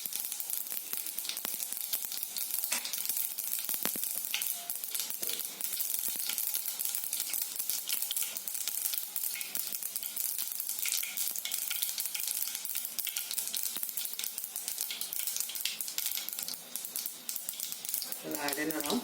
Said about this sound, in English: after it has spluttered, we'll also add in 1 teaspoon of jeera or cumin seeds